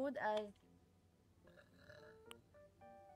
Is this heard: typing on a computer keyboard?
no